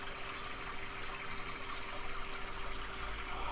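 An iPhone's stream background sound plays as a soft, continuous watery rush, faint and steady, with no other sounds over it.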